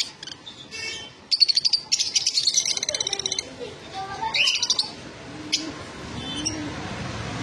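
Green Fischer's lovebirds, six to seven months old, chirp in a cage at a bird sale, giving close bursts of rapid, shrill trilling calls with quieter chatter between them and faint voices nearby.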